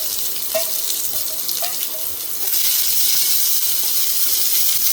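Mustard seeds and chopped onions frying in hot coconut oil, a steady broadband sizzle that grows louder and denser halfway through, with a few faint pops early on.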